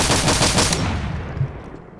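An AA-12 automatic shotgun in Garry's Mod fires a rapid string of loud, evenly spaced blasts for under a second, then the echo trails off into a fading rumble.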